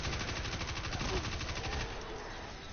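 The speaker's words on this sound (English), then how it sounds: "let's also test out this submachine gun, because I have not used it yet" Rapid submachine gun fire from the video game Destiny 2, a fast continuous burst of shots for nearly two seconds, then tapering into a dull rumble; no talking over it.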